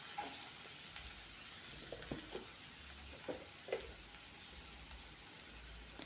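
Brinjal frying in coconut oil with onion and green chilli gives a soft, steady sizzle with occasional stirring scrapes and pops from the pan, heard close but quiet and with no voices.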